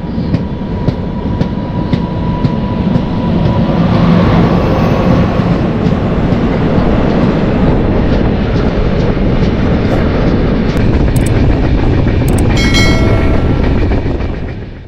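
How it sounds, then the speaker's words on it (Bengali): Express train to Ranchi Road pulling out of Howrah station's old complex, a loud steady rumble of wheels and carriages with rhythmic rail clatter, continuous and close throughout, with faint brief squeals near the end. "এই ট্রেন যাত্রা শুরু করে"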